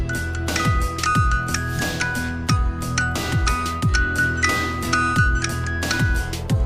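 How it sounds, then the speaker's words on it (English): A music box from the Five Nights at Freddy's 2 video game playing the nursery rhyme My Grandfather's Clock: a steady, tinkling melody of plucked chime-like notes over a repeating low pulse, moderately loud and alone. "The music emanating from this box is the children's nursery rhyme My Grandfather's Clock"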